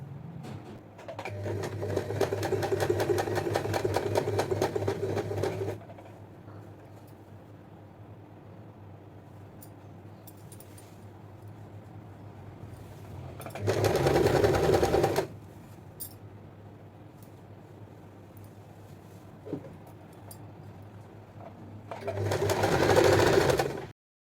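A sewing machine stitching fabric for a running stitch on a tailored garment, running in a steady rapid whir for several seconds, then two later short bursts, close, with quiet pauses between.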